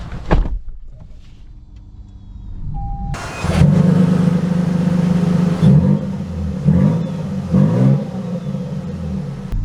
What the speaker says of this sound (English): we are setting off here in the Toyota Sequoia TRD Pro